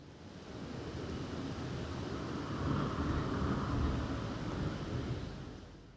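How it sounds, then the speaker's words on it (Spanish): Soft water waves wash in a steady, continuous surge, swelling gently in the middle and easing again, with no voices over them. "El agua se mueve"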